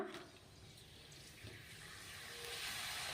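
Jowar roti frying in hot oil in a North Karnataka kitchen, a steady soft hiss that rises gradually and spreads into a brighter sizzle toward the end.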